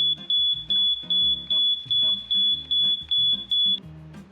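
A smoke detector in a fire detection and alarm system demonstration sounds a loud, shrill, piercing tone in regular pulsing bursts, about nine evenly spaced beeps, with no speech.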